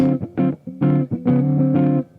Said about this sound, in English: When you roll the tone down, it kind of gets a little bit quieter.